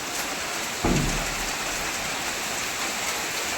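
Steady hiss of rain falling on surfaces, with a brief low thump near the start, continuing evenly throughout.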